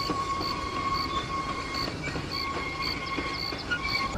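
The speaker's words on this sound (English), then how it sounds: "actually ride the Combine car as part of that original train set" The Disneyland Railroad train runs with its original combine car, a loud continuous rolling rumble with steady clickety-clack and thin wheel squeal above it.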